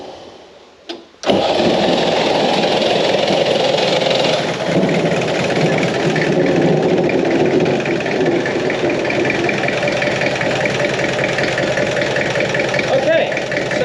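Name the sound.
Peugeot P4 diesel engine starting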